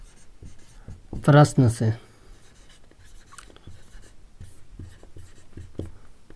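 Marker or chalk strokes scratch across a board while a math solution on mensuration is written, soft scattered squeaks and taps running through the clip, with a voice speaking briefly near the start.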